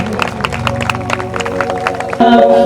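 An audience at a Hindu religious discourse applauding to welcome the guru, steady clapping throughout with music tones entering loud near the end.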